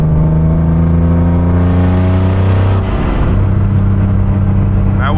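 Close, loud in-car engine drone of a turbocharged BMW E36 in fourth gear at light throttle, the pitch climbing steadily as it builds boost, with a slight change in tone midway.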